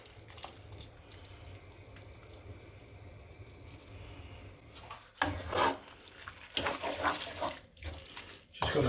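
Cooked tagliatelle tossed into a pan of sauce, giving wet scraping and sloshing bursts in the second half after a quieter low rumble.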